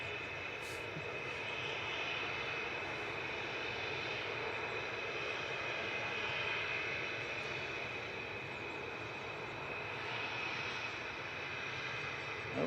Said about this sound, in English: The EasyJet that was loitering briefly is going.